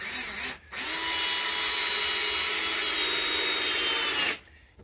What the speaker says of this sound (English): you actually hear the drill whine a bit more in this one